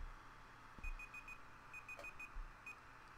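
A timer alarm beeps in repeated quick bursts of high electronic tones, two clusters of rapid beeps separated by a short pause, with a single beep after, clear over a quiet background.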